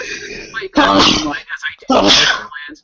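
A sneeze bursts out close by at about 0.8 seconds, then a second loud burst follows near 1.9 seconds, with a person talking in between.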